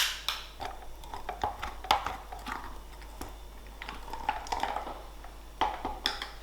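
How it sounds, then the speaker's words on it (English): Dry powdered ingredients stirred into high protein yogurt with a spoon, giving a run of soft, close scraping and clinking taps against the bowl at an irregular rhythm, with no voices. "I like to start by mixing these dry powdered ingredients with 100 grams of high protein yogurt"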